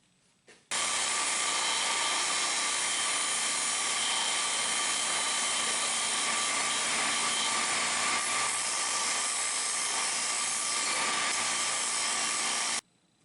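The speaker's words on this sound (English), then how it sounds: "do some rough reduction with this 8-inch grinder here" An 8-inch grinder does rough reduction on a wooden knife handle, a loud continuous whirring grind held for about twelve seconds at close range before cutting off abruptly.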